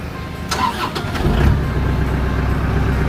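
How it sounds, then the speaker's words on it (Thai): An Iseki NT554 54-horsepower diesel tractor engine cranks briefly, then catches and settles into a loud, steady low idle close by. "เดี๋ยวลองลองสตาร์ทเครื่องยนต์นะครับ"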